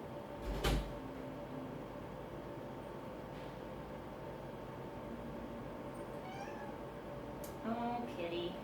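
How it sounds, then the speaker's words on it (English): A house cat meows in a quiet indoor room, with a couple of short, soft calls near the end and a brief knock early on. "This is my roommate's cat, y'all."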